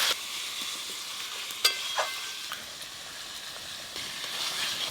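Onion, ginger and garlic paste fries in a pan for mutton curry with a steady, close hiss of sizzling. Occasional sharp clicks and scrapes of stirring come through, and no one speaks.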